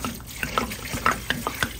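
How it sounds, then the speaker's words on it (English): Filtered water runs steadily into a large pot of bones for bone broth, a close, continuous splashing gush with small irregular plops and no voices. "Now what I'm gonna do is fill this up with some filtered water."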